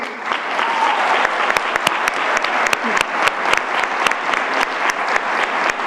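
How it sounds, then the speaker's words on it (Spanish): Strong, dense applause from a festival crowd at the Fiestas del Pilar proclamation in Elche, honouring the 2024 flag bearer, sustained loud clapping with sharp individual claps standing out throughout. "Despedimos ahora con un gran aplauso al abanderado 2024, Álvaro Jarques y Nusía"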